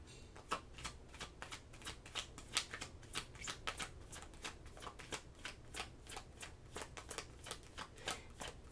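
A deck of tarot cards is shuffled over and over, a rapid, even riffle of soft papery flicks that carries on throughout, quiet and close, with no talking.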